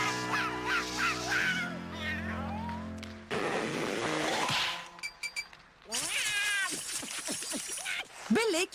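A cartoon cat meows and yowls repeatedly in a Hindi-dubbed animated series, loud drawn-out cries spread through the scene alongside bursts of speech and music.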